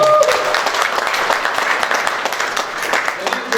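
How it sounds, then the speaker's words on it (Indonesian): A church congregation applauds, with loud, dense clapping that continues steadily throughout, mixed with some crowd voices. "Kita berikan tepuk tangan sekali lagi."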